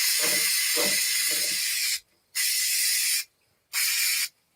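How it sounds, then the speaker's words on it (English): Spray mount adhesive hisses from an aerosol can in three loud bursts, a longer one followed by two shorter blasts separated by brief silences. "I'm going to put some spray mount on here"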